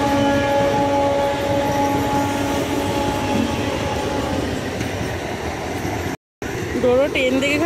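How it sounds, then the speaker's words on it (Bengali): A train passes close by with a loud, steady rolling rumble and clatter that fades gradually. After a brief dropout, voices are heard near the end. "চলে গেল ট্রেন"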